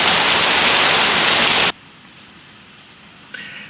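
Heavy rain from a severe storm in Oklahoma pours as a loud, dense roar for under two seconds, then cuts off abruptly to quiet background hiss.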